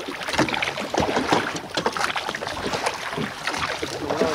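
A non-motorized rowboat glides across a forest drinking-water reservoir at Parambikulam, oars splashing and dipping in uneven strokes with light wind noise around.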